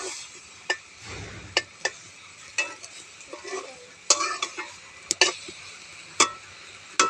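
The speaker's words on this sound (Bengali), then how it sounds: "এখানে শাক ভাজি করছি।" Leafy greens fry in a pan on a rooftop clay stove, with a soft sizzle broken by sharp, irregular spatula taps and scrapes, close by.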